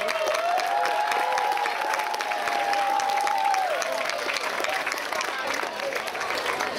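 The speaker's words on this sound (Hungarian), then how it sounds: "Tapsot neki!" The crowd at a school song festival applauds a music teacher, a steady wash of clapping that holds for several seconds with a sustained tone and some voices running through it.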